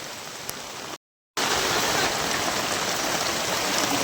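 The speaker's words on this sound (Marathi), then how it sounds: "जबरदस्त पाऊस चालू आहे." Heavy monsoon downpour seen from a house window in the Konkan countryside, a dense, steady roar of rain that fills the whole clip apart from a brief dropout near the start, with no talking.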